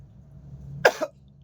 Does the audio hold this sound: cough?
yes